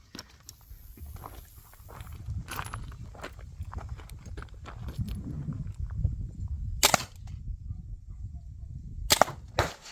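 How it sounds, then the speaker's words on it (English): A less-lethal medium-range weapon fired at a target tent, several sharp cracking shots, two loudest near the end, over low rustling and handling noise at close range, with no speech. "it shot through the tent, the target tent"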